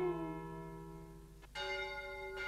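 Church bells ring with a sustained, humming tone that shifts to a brighter strike midway, in an animated film, clear and fairly quiet with no voices.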